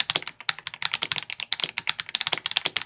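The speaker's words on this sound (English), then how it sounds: "a little bit more higher pitched, tappy linear switches" Linear mechanical keyboard switches typed in a quick, steady stream of close, high-pitched tappy clicks with no talking.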